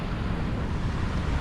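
Big typhoon waves crash against the shore in a dense, loud, continuous roar of surf with buffeting wind, no voices.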